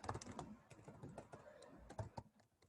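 Typing on a computer keyboard, a steady patter of close, soft key clicks with a brief lull near the end, with no voices.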